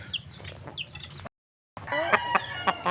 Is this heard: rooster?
yes